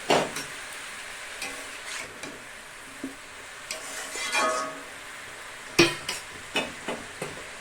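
Chili powder and salt are stirred into a cooking pan with a soft, steady sizzle, broken by a few sharp clinks of a spoon against the metal near the end.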